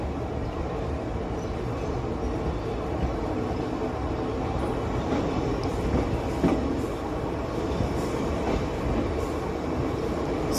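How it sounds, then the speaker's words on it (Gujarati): An Indian train hauled by a WP5 locomotive accelerating away from a platform near Samakhiali, heard from on board as a steady loud rumble of wheels on track with faint rhythmic clacks. "અહીંયા તમે જોઈ રહ્યા છો એક્સેલરેશન WP5નું।"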